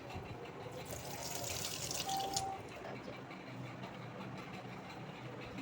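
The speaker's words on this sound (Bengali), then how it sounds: "হাতটা ধুয়ে নিই" A tap runs steadily as hands are washed, a continuous rushing splash of water that stays constant and fairly quiet throughout, with no clear speech over it.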